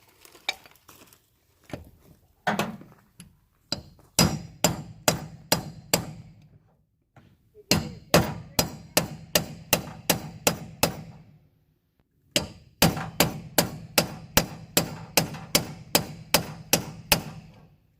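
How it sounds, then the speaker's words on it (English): A bearing press working on metal delivers loud, sharp metallic knocks in rapid evenly spaced runs, with short pauses between bursts and no voices. "you think I can hear you over that bearing press?"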